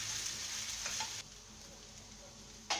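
Grated coconut sautéing in a pan for vegetable salna, a steady close sizzle with light stirring, dropping quieter midway before a brief scrape near the end.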